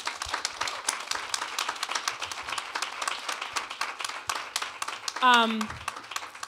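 An audience at a Berklee College of Music Q&A gives a steady round of applause, many hands clapping throughout, with a brief voice rising over it near the end.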